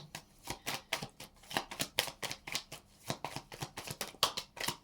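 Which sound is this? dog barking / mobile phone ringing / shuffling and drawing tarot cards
shuffling and drawing tarot cards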